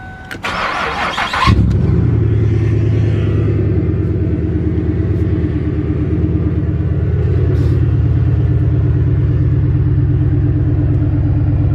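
An engine cranks briefly, then catches and settles into a loud, steady low rumble that keeps running close by with slight surges.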